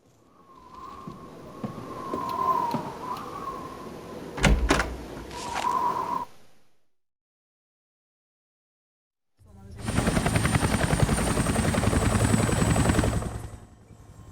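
A video game helicopter's rotor chops loudly and steadily, preceded by a whistling tone and a few sharp bangs, with a silent gap in between.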